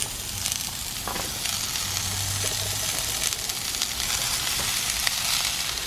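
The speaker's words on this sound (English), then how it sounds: "So in this pan, I'm just gonna throw the broccoli in" Broccoli florets and thinly sliced stalks sizzle steadily in a hot pan, a continuous close frying hiss with occasional stirring clatter and no talk.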